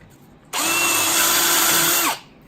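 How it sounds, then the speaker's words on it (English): A power drill bores a hole using a chain drill guide, making one steady, loud whine that starts abruptly, holds for about a second and a half, then stops, with no talk. "And I drill that hole."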